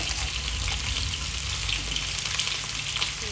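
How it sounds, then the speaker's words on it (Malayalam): Four teaspoons of mustard seeds sizzle loudly and steadily in hot oil, close up, as a dense crackling hiss with no talking. "ഒരു നാല് ടീസ്പൂൺ കടുക് ഇട്ട് കൊടുത്തിട്ടുണ്ട്"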